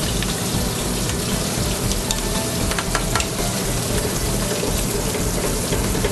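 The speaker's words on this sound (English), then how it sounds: "So we're going to add the truffle butter." Truffle butter, made with black truffle shavings, white truffle oil and truffle essence, sizzles and spits steadily in a hot pan of sauce reduced by half, a dense, even crackle that holds for the whole stretch with no voices.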